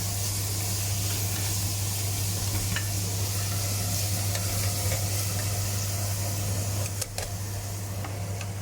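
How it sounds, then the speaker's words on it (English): Tomatoes sautéing in a pan for veg biryani, a loud steady hiss and sizzle close up over a constant low hum, with a few faint clicks of stirring and no talking. "Now I'll put some tomatoes, and little bit I'll saute it."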